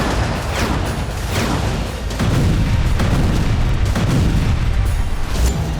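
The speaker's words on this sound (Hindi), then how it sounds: "बेहद छोटे नजर आने वाले ड्रोन से जबरदस्त धमाका हो रहा है।" A loud, continuous roar of blasts and rumbling booms from an FPV drone strike explosion in the Russia-Ukraine war, dense and sustained throughout, with no voices.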